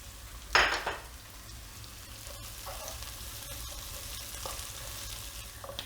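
Thinly sliced onion and two chopped green chillies fry in a pan, an early loud splash of sizzling settling into a steady low crackle with faint utensil clinks; no one talks.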